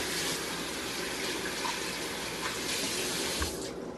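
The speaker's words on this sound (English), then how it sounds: "do a quick wash of the hands" Hands being washed under a running kitchen tap, a steady close rush of water filling the whole span with a slight change near the end, no talk.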